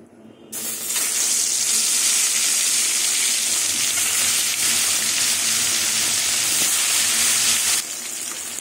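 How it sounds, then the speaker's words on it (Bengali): Bhetki fish hits hot mustard oil in a heated kadai and breaks into a loud, steady sizzle that holds for several seconds before it cuts off. "এবার মাছগুলো তেলে ভেজে নেব।"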